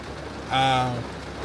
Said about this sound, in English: But it's really raining for real.